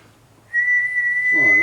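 Whistling into a Midland CB radio set to LSB gives a steady, clear tone that starts after a short pause and holds, loud and close, with a faint warble near the end.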